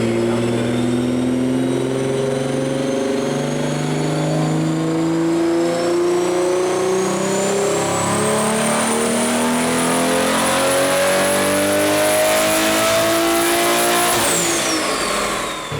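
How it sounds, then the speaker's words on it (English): A BMW G80 M3 on a JB4 tune running map 1 at about 28 psi of boost, its engine revving loud and close in a long, continuous pull that climbs steadily in pitch before dropping off sharply near the end. "Here we are on JB4 map 1, targeting 28 pounds of boost."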